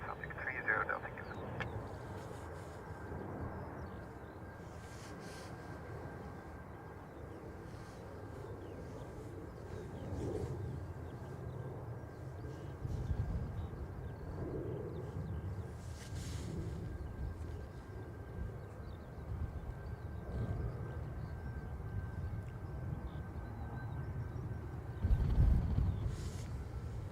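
A plane lands at Dublin Airport in a crosswind, a faint, distant engine rumble building slowly over a long stretch beneath radio talk and light wind noise, with a brief thump near the end.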